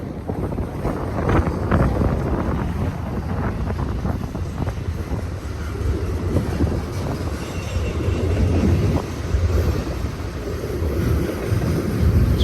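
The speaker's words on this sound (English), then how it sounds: "Now we're going to go into some freight train action here" A freight train with grain, lumber and cement cars rumbles past continuously in Cajon Pass, a steady heavy roar of wheels and cars with wind buffeting the microphone throughout.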